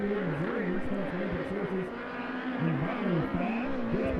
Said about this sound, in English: Car number 98 now on the racetrack.